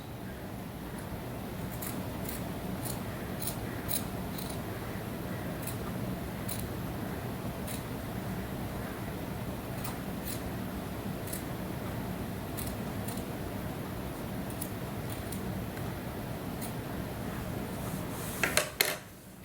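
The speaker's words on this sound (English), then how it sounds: "I'm going to cut out just a little bit of black felt for her nose." Scissors snip through a piece of black felt for a hedgehog's nose in a book-craft project, a string of short, crisp cuts repeating at an uneven pace over a steady background hiss, ending with a brief handling clatter.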